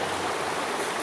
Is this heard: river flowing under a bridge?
yes